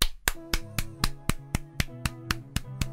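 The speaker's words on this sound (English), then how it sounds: "I hope my claps are going through the microphone" A single person claps close to a microphone, a steady run of about eleven crisp, evenly spaced claps over a low sustained tone.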